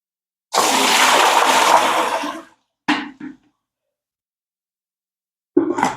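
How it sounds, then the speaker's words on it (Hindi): Noni and purslane greens being rinsed in a basin, with a long burst of splashing water, then two short splashes after a quiet gap and a fresh splash starting at the end. "अब इसको धो के निकाल रहे हैं।"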